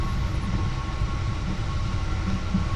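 A Polish sleeper train riding from Gdańsk to Kraków: a loud, steady low rumble of the carriage in motion with a faint tonal hum, continuous and without speech.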